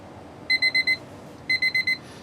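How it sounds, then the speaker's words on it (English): A cell phone timer alarm beeps in two quick bursts of four sharp, bright electronic beeps each, fairly close and clear over a quiet background inside a truck cab during a CDL air brake check. "The state does allow you to use your cell phone as a timer for this test."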